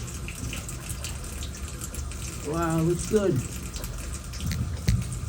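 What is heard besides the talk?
water running into and draining from new Americast bathtub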